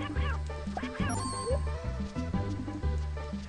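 Cartoon duck character quacking in the Claymates video game, several nasal quacks over bouncy game music and sound effects.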